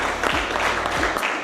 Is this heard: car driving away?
no